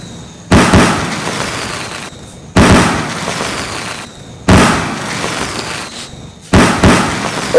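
Repeated bursts of sky-shot fireworks during a Diwali celebration in the Indian Bike Driving 3D game, four loud crackling volleys each lasting about two seconds, separated by brief pauses, with no talking.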